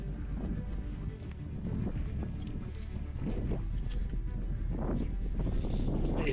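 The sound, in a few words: wind blowing by a river bed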